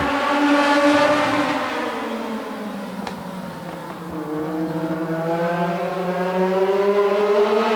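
Several race cars roar off the start of a heat race at a racetrack, engines revving and climbing in pitch as they accelerate, loud and close, with overlapping motors rising and falling.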